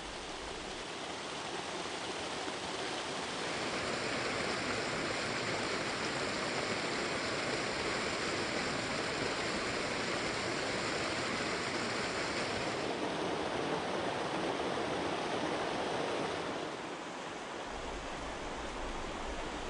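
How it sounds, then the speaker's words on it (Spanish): Valcarque stream flowing near the village of Casasuertes, a steady, rushing wash of water that holds even and continuous throughout, moderately near and with no voices. "El arroyo Valcarque alegra el pueblecito de Casasuertes"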